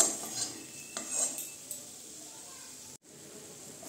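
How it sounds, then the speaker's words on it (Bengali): Cashews and spices fry in a pan, with a soft sizzle under clinking and scraping as a utensil stirs, and a brief dropout near the end. "কাজুটাও হালকা এটার সঙ্গে ভাজা হবে।"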